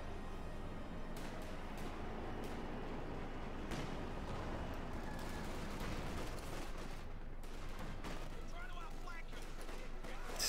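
Dense gunfire from German Grenadier infantry in the real-time strategy game Company of Heroes 2, with continuous rattling volleys and sharp shots over a heavy battle din, loud and unbroken, under a commentator's voice.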